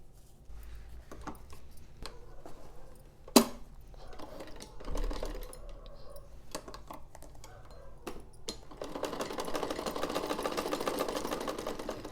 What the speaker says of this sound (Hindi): अब इसको यहाँ पर हम अच्छे से सिलाई कर लेंगे।